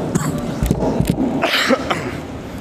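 A few short, raspy coughs from a man with a cold and flu break out in quick succession, fairly close, with faint background noise between them.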